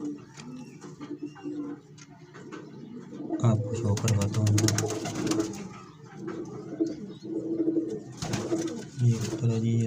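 Three freshly caught pigeons coo in low, throaty rolling calls, repeated close by and mixed with wing flutters and handling noise, while someone speaks over them in Hindi.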